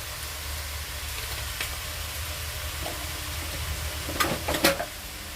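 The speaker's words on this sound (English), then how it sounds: "Now we're gonna give it a stir." Spiced vegetable soup being stirred in a pot, a low steady simmering hiss with a few soft scraping and clinking stir sounds near the end, close and fairly quiet, no talking.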